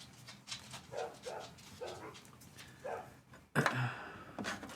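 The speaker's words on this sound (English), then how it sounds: "My goodness, dogs." Several dogs bark and yip in short bursts at a moderate distance, a rhythmic run of barks followed by a louder, closer outburst near the end.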